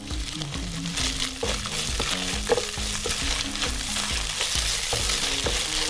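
Chicken frying in olive oil in a pan for pancit canton, a close, steady sizzle broken by the repeated scraping knocks of stirring.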